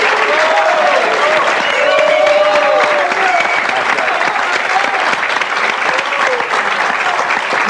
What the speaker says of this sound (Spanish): ¿Le podemos dar un fuerte aplauso a Guille?